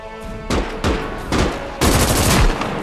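MG-34 machine gun fire in the video game Call to Arms Gates of Hell comes in loud, close bursts of rapid shots, several separate volleys with booming echoes.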